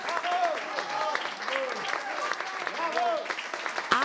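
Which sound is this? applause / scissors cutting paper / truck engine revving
applause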